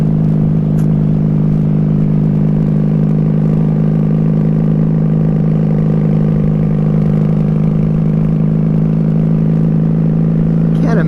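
A 1994 Honda Magna 750 VF750C motorcycle engine runs low on fuel, a steady, close, loud drone with an even pulsing rumble that holds throughout without a break.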